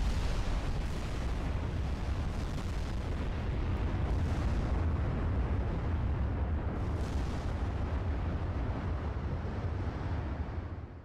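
Heavy naval gunfire from warships firing high-explosive shells in a dreadnought-era naval battle game, a continuous loud rumbling roar of booming blasts with no talk.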